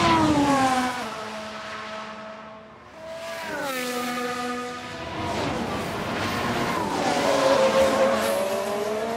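Formula 1 race cars scream past in F1 Manager 22, engine notes rising and falling with gear changes as several cars run wide off the racing line, a steady loud roar with passing dips and swells.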